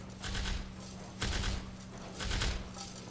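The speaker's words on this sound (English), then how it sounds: "And then they get machine gunned." Machine gun fire in the People Playground video game, three dense bursts of rapid shots, each about a second long, separated by brief pauses, with a low steady hum underneath.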